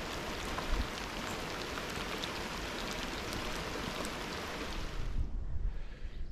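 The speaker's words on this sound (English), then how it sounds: "It's only raining over me." Heavy rain pours down steadily at a backcountry fishing spot, a dense, loud hiss of drops on surfaces that fills the whole stretch with no break and no one speaking.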